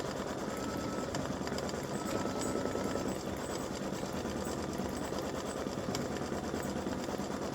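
An embroidery machine stitching a lavender candy design on an in-the-hoop Valentine's mug rug panel, a dense, continuous mechanical whir and rapid needle chatter running at an even pace throughout.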